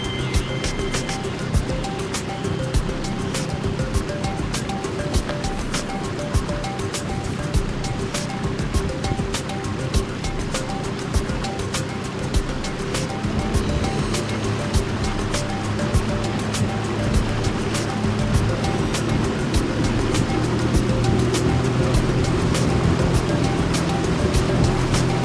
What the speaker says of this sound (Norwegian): Men bekken som kommer ut, det er Loddbakkbekken.